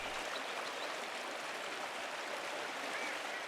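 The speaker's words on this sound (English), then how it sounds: "The waterfall is always so beautiful." Steady rushing waterfall ambience near a salt mine shaft in the video game Pentiment, a continuous broadband wash of falling water with no breaks, moderately loud and even throughout.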